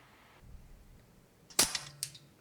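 An Air Arms S410 air rifle fires once at a target on an outdoor range, a sharp crack with a short trailing rattle, then a fainter second impact-like snap half a second later, over quiet background with no talking.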